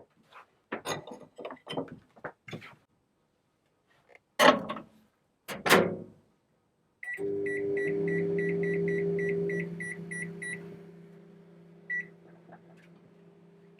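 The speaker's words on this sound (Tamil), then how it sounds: "இதை இப்போ மைக்ரோவேவ் பண்ணிக்கணும்." Microwave oven heating a bowl or plate of lentil dish in a home kitchen: a steady hum runs for several seconds with repeated electronic beeps over it, then one final beep, after some earlier handling clatter and a door thud.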